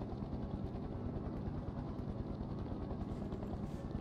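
A helicopter in SCP: Secret Laboratory thrums with a fast, even rotor chop over a low rumbling engine, steady and moderately close for several seconds without any talking.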